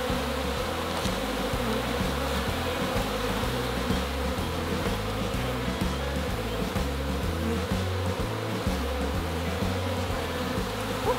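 Honey bees swarming around hive boxes make a dense, continuous buzzing hum, loud and close, with individual wingbeat drones weaving in and out and no voices.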